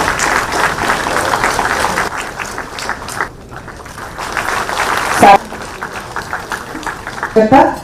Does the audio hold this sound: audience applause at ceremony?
yes